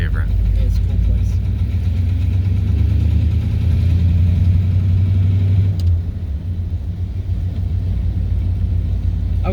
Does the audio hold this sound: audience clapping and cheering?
no